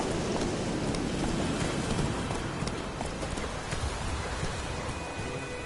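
Hooves of a horse galloping in The Witcher 3: Wild Hunt on PS4, a fast, steady clip-clop drumming close by under continuous rain or wind ambience, with no pauses.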